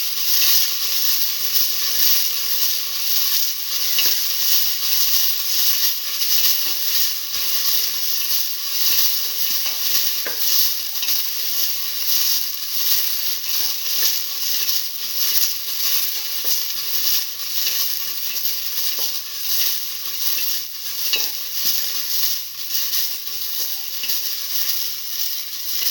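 Onions and garlic sauté in a pan with a steady, continuous sizzle, plus an occasional faint scrape of stirring, with no voices.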